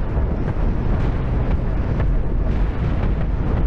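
An enemy ship breaking apart under fire in the Cosmoteer space game: a dense, steady roar of explosions and low rumbling blasts, loud and continuous, with no talking.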